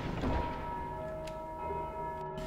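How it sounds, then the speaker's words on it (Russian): Bell tolling in Dark Souls 2: Scholar of the First Sin, a steady resonant ring with sustained tones carried over a dense game ambience, faint and continuous throughout. "кто там еще, блин, в колокол позвонил?"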